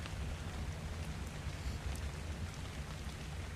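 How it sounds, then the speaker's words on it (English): Steady, dense rainfall in the video game ARK: Survival Evolved on Xbox One forms a continuous hiss with faint low rumble, with no voices. "Sorry about the rain, guys."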